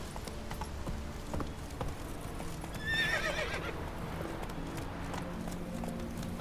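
A horse in The Witcher 3 video game gallops with rhythmic hoofbeats, then lets out a clear, high neigh midway, moderately loud over soft background game sounds.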